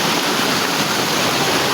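Waterfall at Bono Manso in Ghana rushing steadily, a loud, dense, continuous roar of falling water with no pauses.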